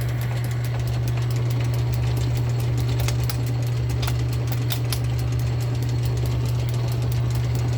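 A refurbished South Bend 9 inch Model A lathe runs with its power cross feed engaged, giving a steady loud motor hum with a low tone and faint rhythmic mechanical ticking.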